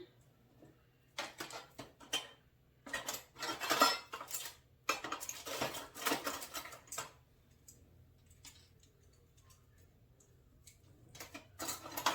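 A glass jar of homemade Christmas jam is opened in a quiet kitchen, making bursts of close clinks, taps and rattles with short pauses between them and no talking.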